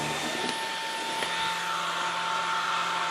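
A Karcher KAV2 vacuum cleaner runs with a steady, loud whine and airy roar, holding one even tone close by.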